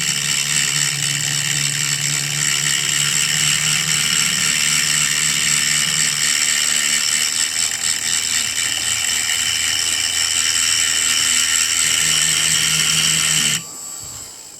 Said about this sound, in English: where I've been grinding